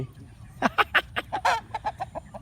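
Chickens cluck in a short, rapid series of sharp calls at an Isan-style outdoor hut in the evening, fairly close and loud over a low background hum.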